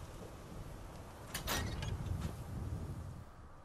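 A door in the Fallout 4 video game slides open with a brief mechanical whoosh and clunk over a low, steady game ambience, quiet and fairly close.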